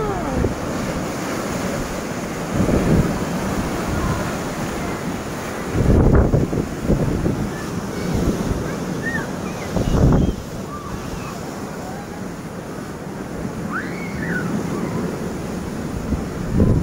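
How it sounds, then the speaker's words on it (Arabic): Rough sea waves surge and break on the beach at Bakaa Bich, Oran, a steady roar of surf with heavier crashes around six and ten seconds, wind buffeting the microphone throughout and faint voices at times. "البحر غاضب اليوم، لماذا يا بحر؟"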